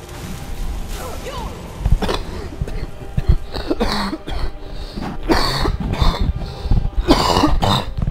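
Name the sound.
coughing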